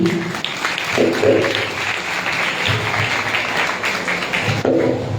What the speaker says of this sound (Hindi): एक बार फिर जोरदार ताली बजाइए बहन के लिए